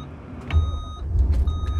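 A new 2024 Chinese-built heavy truck engine cranks and catches in neutral with the brake held, giving a deep low rumble that swells twice. Faint dashboard chime tones ring above it.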